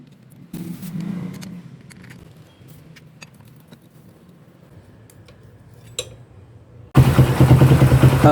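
Honda CB-type motorcycle engine idling low and steady after a clutch replacement, with faint mechanical ticks, then a sudden loud surge near the end as the engine revs hard.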